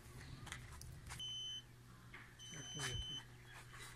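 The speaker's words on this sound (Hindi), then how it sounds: "ये सिग्नल आ गया, आपको इसकी बीप की आवाज़ आ रही होगी" A satellite signal finder picks up a C-band signal and emits two steady electronic beeps, each lasting about half a second, moderately loud over background noise and a voice.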